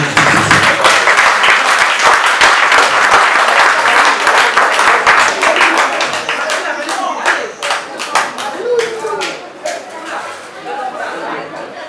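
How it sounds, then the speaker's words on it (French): An audience applauds the family of Mr. and Mrs. President at a French-speaking gathering: dense, loud clapping for about six seconds, then thinning into scattered individual claps as voices and chatter rise through the crowd. "Je voudrais qu'on puisse applaudir fortement la famille de monsieur et madame Président."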